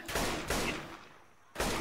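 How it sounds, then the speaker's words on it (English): Bursts of gunfire in the video game Left 4 Dead, two loud sustained volleys followed by a brief lull and then another burst, close and dominant with no talk. "I'm shooting"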